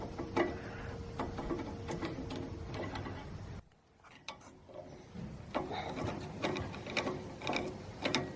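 Screwdriver works on the carburetor of a Tecumseh 5HP engine at the intake, giving close, quiet scraping and ratcheting clicks with a brief pause midway before more rattling handling noises.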